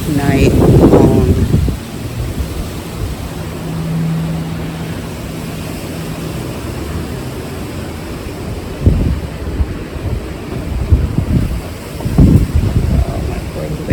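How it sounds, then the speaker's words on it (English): Strong wind gusts through a garden during a California windstorm, a steady broad roaring rush with louder bursts near the start and again toward the end, buffeting the microphone. "Hopefully this wind will stop in a few hours. It has been going all night long."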